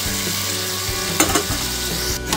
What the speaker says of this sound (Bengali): আমি ভালো করে মশলার সাথে কচু আলুটাকে একটু কিছুক্ষণ কষিয়ে নেব